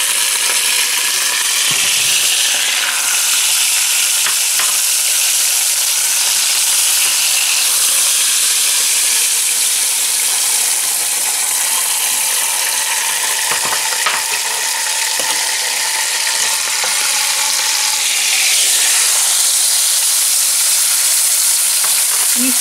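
A beef round roast sears and browns in a hot pan for pot roast, a loud, continuous close sizzle with occasional crackles and light clinks, no voices.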